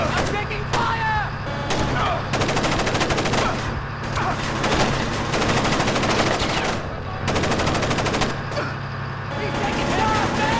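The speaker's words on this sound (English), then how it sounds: "He's taking shots now!" Automatic gunfire in the stealth video game Splinter Cell: Chaos Theory, loud repeated bursts of rapid shots broken by short gaps, with people shouting and talking over the shooting.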